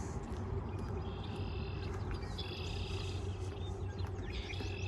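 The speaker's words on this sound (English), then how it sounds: "And as you can hear, lots of birds." Birds chirp and trill repeatedly along a creek on a spring walk in Regina, layered calls over a steady low outdoor rumble with no talk.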